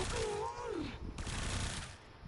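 Burst gunfire from a weapon in the video game Warframe, a dense rattling volley under a voice speaking, fading toward the end.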